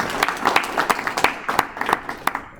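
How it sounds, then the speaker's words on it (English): Audience claps for a speaker at a BDPA Atlanta monthly meeting, a loose, fairly close round of distinct individual hand claps with an uneven rhythm. "let's give Torrey another hand clap"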